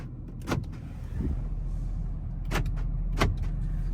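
The power door locks of a 2016 Ford F250 Platinum with the 6.7 Powerstroke actuate in several short, sharp mechanical clunks spread over a few seconds. The clunks sit over a low steady idle-like hum inside the cab.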